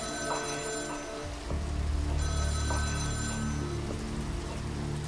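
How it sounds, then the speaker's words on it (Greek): A desk telephone in a Mickey Mouse cartoon starts ringing partway through, a loud continuous electric bell over a busy music and sound-effect background. "προσπαθεί να πιάσει το τηλέφωνο πάνω στο γραφείο του, το οποίο ξαφνικά αρχίζει να χτυπάει."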